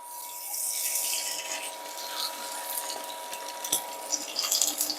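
Salmon fillet laid skin-down in a hot frying pan, a steady, fairly quiet sizzle with a faint hum and a few small clinks of utensils near the end.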